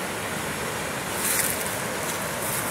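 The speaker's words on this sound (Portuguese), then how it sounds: "Hoje a cachoeira tá forte e tá bem sujo." A strong, muddy waterfall in a river swollen by rain roars with a dense, steady rush of broadband noise, close and loud, with a few brighter splashes and no voices.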